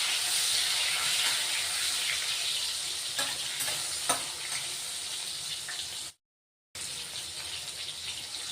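Masala with sesame seeds, peanuts, cumin and chopped tomato sizzles steadily in a pan over low gas, a dense even frying hiss with a few faint stirring clicks and a brief drop to silence near the end.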